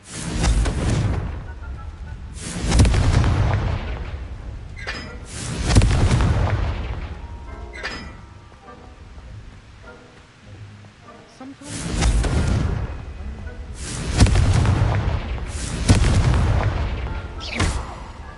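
Confringo fire-spell blasts in the Hogwarts Legacy video game land as a series of heavy booming explosions, about five or six, loud and spaced irregularly, with spoken game dialogue between them.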